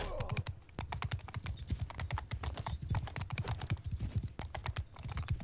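Rapid clip-clop of horse hooves during a video game battle, a dense, steady run of sharp close hoofbeats that carries through the whole stretch without pause.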